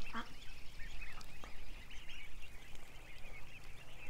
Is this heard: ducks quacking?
yes